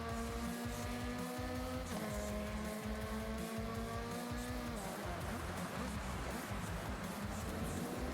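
Race car in Forza Horizon 6 on Xbox Series X, engine loud and continuous with rising, shifting pitch and a gear change, tires squealing through a drift with no talk.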